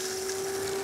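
A DAB Esybox Mini3 variable-speed pump runs steadily with a second shower open, giving a constant tonal motor hum under a broad hiss of flowing water, close and even throughout the brief stretch.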